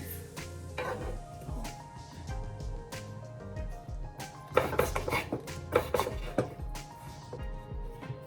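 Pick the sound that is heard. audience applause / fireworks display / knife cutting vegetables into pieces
knife cutting vegetables into pieces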